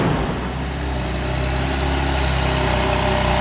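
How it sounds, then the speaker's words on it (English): A 2009 Cadillac CTS AWD Premium engine runs at a steady, smooth idle, a continuous low hum close by with no talk over it. "And Fawn, can you turn the engine on?"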